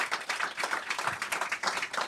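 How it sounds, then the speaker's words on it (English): Audience at a Washington policy event on America's rural future breaks into a short burst of applause, dense overlapping claps pulsing steadily at moderate distance with no talk over them. "if we could get another gratuitous round of applause for these people"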